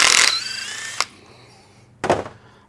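A power tool removes a bolt from a motorcycle fork, giving a loud whirring burst, a sharp click, then a quieter pause and another short mechanical burst.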